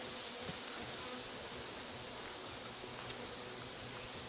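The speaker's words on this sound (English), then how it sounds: "bees. They're just buzzing." Honeybees swarm around a freshly installed nuc hive, giving a dense, steady buzzing hum that stays close and constant throughout, with no voices.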